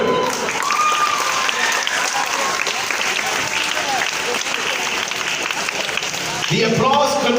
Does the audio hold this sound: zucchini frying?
no